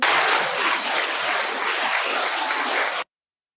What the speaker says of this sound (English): Just did the clapping.